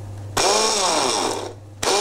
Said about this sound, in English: those are going into the food processor. I'm going to give that a quick blitz to start the chopping process